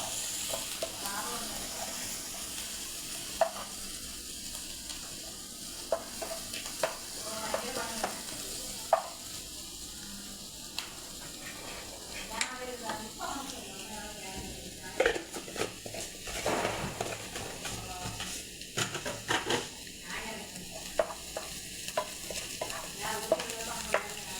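Chopped onions sautéing in a pan for upma, giving a soft continuous sizzle broken by frequent scraping and tapping of the stirring spoon, fairly quiet and close.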